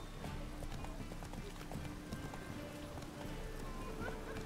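Roach, a horse in The Witcher 3, gallops with steady rhythmic hoofbeats under faint game ambience and a low voice.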